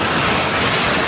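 A large waterfall on a Nepali outing thunders in a dense, constant rush of falling water that fills the whole moment at close range.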